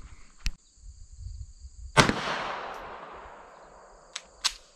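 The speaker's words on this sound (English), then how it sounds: "We're just going to shoot this thing a good bit more here" Several gunshots from a Beretta Tomcat .32 auto pocket pistol: a faint shot, then a loud sharp report with a long decaying echo, and two more quick shots near the end, no talking.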